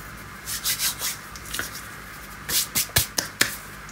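Dried mint or wild pennyroyal being rubbed and crumbled between the hands over a pickle preparation, giving a series of close, dry rustling bursts, a few soft ones followed by sharper crackling rubs, with no talk.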